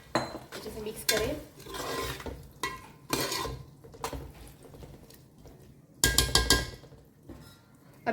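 Vegetable biryani masala being stirred and mixed in a pan, giving scraping, clinking bursts of a spoon against metal in several separate rounds, close and fairly loud, with quiet gaps between them.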